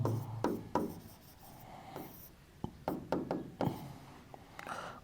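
Pen or chalk writing out the closure law for multiplication modulo problems by hand, a series of close scratchy strokes and light taps in short bursts with pauses between them, no talking.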